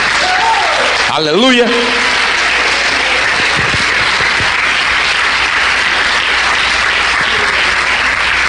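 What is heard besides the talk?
congregation applause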